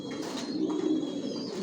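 Racing pigeons held as breeders in a loft coo softly and steadily nearby, a low continuous murmur of overlapping calls with a faint chirp now and then.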